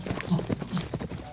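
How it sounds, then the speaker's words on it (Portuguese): Rapid clip-clop of galloping mule hooves, a quick rhythmic run of hoofbeats, close and moderately loud. "Esse é o galopar dela."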